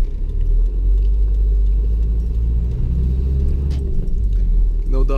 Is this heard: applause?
no